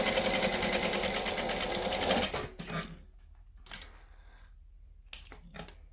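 Home sewing machine basting fabric pieces for a gusset seam, a loud steady mechanical whir for about two seconds, then it stops and only quiet handling clicks and rustles follow.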